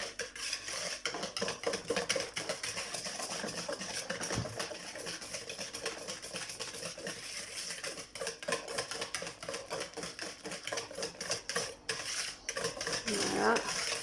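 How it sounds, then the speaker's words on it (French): A utensil stirs chocolate cake batter in a bowl, a steady run of soft clinks and scrapes against the sides, close and fairly quiet. "Et après on mélange."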